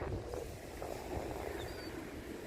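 Steady wind blowing by the sea at Deal, a broad, even rush buffeting the microphone with faint surf underneath, continuous and fairly close, with no talking.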